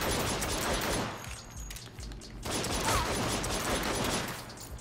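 Rapid Glock pistol fire in the video game Saints Row, dense loud bursts of shots with a short lull in the middle before the shooting resumes.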